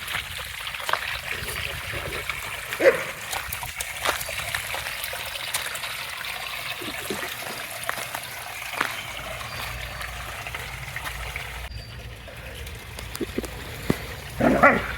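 Several dogs bark intermittently in a home garden, the barks short and somewhat distant, over a steady background of trickling water.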